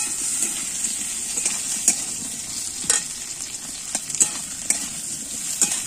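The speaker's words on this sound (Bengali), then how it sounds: "পেঁয়াজটা দিয়ে একটু নাড়াবো, তারপর লাল লাল হয়ে যাবে পেঁয়াজটা" Onions fry in a pan with potatoes as they are stirred, a steady hiss of sizzling oil close by with scattered scraping clinks of the spoon against the pan.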